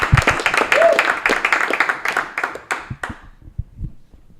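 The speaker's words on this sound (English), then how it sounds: "Big round of applause for a funny man, Alex Avery, ladies and gentlemen" A comedy club audience at a stand-up show claps loudly, sharp irregular hand claps bunching at first and then thinning out and fading to scattered final claps.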